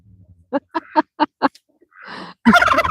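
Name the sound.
ducks and turkey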